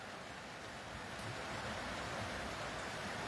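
Heavy torrential rain pours over Sylhet city, a dense, steady hiss that fills the whole clip without pause and swells slightly after the first second. No voices are heard.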